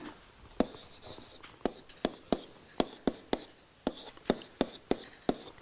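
Chalk or marker writing math on a board during a lesson on symmetric matrices, a series of short, sharp taps and strokes in an uneven rhythm, close and distinct with no talk.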